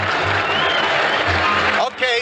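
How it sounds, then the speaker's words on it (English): Baseball fans at Yankee Stadium during the 1978 World Series applaud as a pitcher leaves the game, a steady crowd clapping heard under a radio announcer's voice. "Tommy John is leaving the arena of action and getting a well-deserved round of applause from the Yankee Stadium fans"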